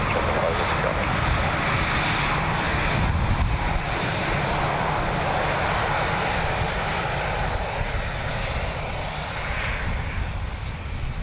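Airliner Shamrock 5 landing on runway 28 left at Dublin Airport, a loud, steady engine roar that holds evenly for about eleven seconds without a clear rise or fade.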